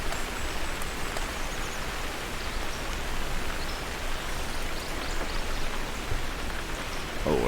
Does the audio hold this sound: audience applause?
no